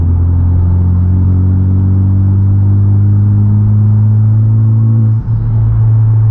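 Honda Civic Type R turbocharged engine with new aftermarket charge pipes, pulling at about four to five pounds of boost, gives a loud, close, steady droning rumble that holds, then dips briefly before carrying on.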